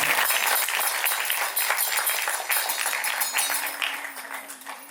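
A temple audience at a Tulsi Vivah celebration applauds the kitchen volunteers. The clapping is dense and sustained and close to the listener, keeps going the whole time, and a faint tone rises underneath near the end.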